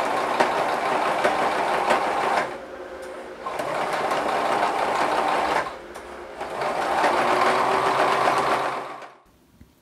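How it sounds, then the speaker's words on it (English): A sewing machine top stitches along the edge of a sateen dress in three sustained loud whirring runs, with brief pauses between them, before it stops near the end. "I'm going to go ahead and do a line of top stitching to match this all along the edge of this guy"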